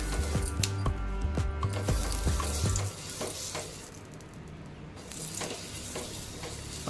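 Rice flour ghavan batter sizzles on an onion-and-oil-greased griddle over low heat, with a run of sharp scraping and tapping clicks early on, then a softer, steady crackle.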